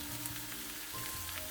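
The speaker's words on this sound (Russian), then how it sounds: "Жарим все вместе до мягкости капусты." Steady sizzling and crackling of cabbage frying in a pan, with faint stirring and clinks, continuous and close.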